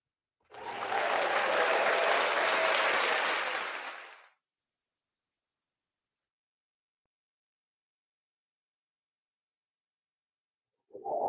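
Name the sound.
applause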